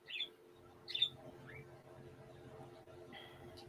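Several pet birds chirp in short bright bursts over a low steady hum, with calls near the start and around the one-second mark and fainter tweets after that.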